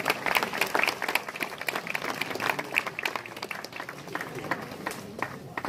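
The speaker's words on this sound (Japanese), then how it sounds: "皆さん拍手お願いいたします。" At a Japanese gathering of old Meguro motorcycle lovers, the audience claps steadily for several seconds, with some voices mixed in beneath the applause.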